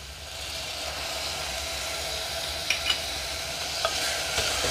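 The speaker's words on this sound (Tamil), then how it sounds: "தக்காளி சேர்த்தோன்னா நல்லா வதக்கி எடுத்துடலாம்" Onions and tomatoes sauté in a pan with a constant, even hiss, and a few faint utensil taps near the end.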